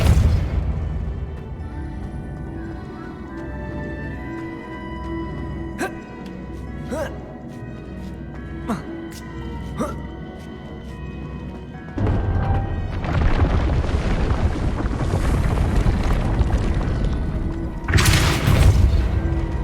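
A spell cast in the Hogwarts Legacy game: a run of sharp magical bursts and pops over a rumbling score, then a louder surging whoosh and a heavy blast near the end.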